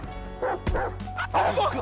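Chop, a Rottweiler in Grand Theft Auto V, barks and yips in quick bursts, close and loud, over a steady low game hum with talk around it.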